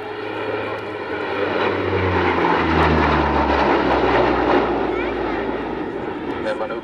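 The four propeller engines of a Hercules transport aircraft drone loudly and steadily at an air show, with a low throbbing pitch that shifts as the plane passes, while a voice speaks underneath.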